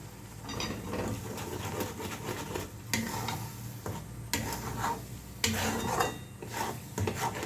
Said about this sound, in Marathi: आणि आता याला मस्त मिक्स करायचं